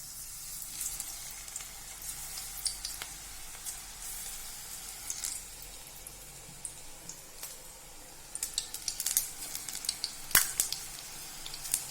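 Methi pakoras (bhaji) fry in hot oil with a quiet, continuous sizzle, with small crackles and pops scattered throughout, growing busier toward the end.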